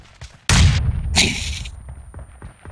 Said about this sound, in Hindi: मैंने बम फेंका, मैंने बम फेंका अर्जन